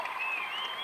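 Applause from a crowd at a televised evening gala in Chaumont in 1992: a brief, steady wash of clapping without breaks.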